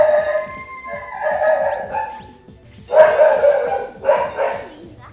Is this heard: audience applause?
no